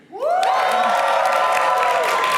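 Audience cheering in a courtroom-style comedy skit when asked to cheer for a guilty verdict: a crowd bursts into loud, sustained whoops and shouts that rise quickly and hold steady for a couple of seconds.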